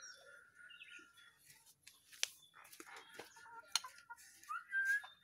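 A white-rumped shama (murai batu) sings a varied run of sharp whistles, chirps and trills at moderate volume, with brief loud peaks and a rising whistled phrase near the end.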